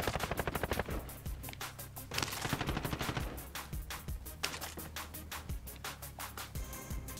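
Rapid bursts of automatic gunfire crackle through a Call of Duty: Warzone duos match. Loud, dense volleys are punctuated by sharper single shots across the whole stretch.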